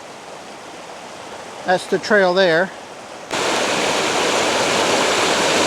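A creek flows beside a hiking trail at Seven Tubs Nature Area near Wilkes-Barre, Pennsylvania, a steady broadband rush of water that swells louder partway through, with someone briefly speaking over it early on.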